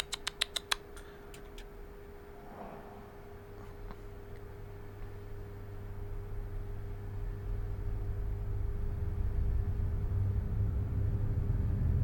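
Train engine in Train Simulator 2021 on the Chatham Main Line, a low rumble that swells steadily louder over the span after a few brief clicks at the start, no talk.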